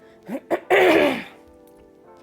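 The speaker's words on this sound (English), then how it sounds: "let me clear my throat." A single person clears their throat with a short rough rasp, preceded by two brief vocal grunts, close up, then quiet.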